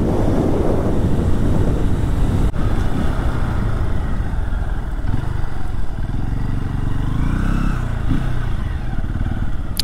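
A 2023 Honda XR150L motorcycle rides off-road, its engine droning steadily and close throughout, overlaid with heavy wind buffeting on the microphone.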